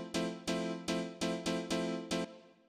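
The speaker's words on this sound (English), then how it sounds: "This is just a one shot of an M1 piano." An M1 piano one-shot, the classic house piano tone, sounds as a bright chord struck seven times in a steady rhythm, each hit decaying quickly before the next, alone and upfront.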